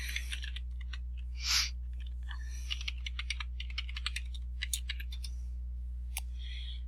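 Quick bursts of key presses and clicks on a computer keyboard while logging in, light and close over a steady low electrical hum.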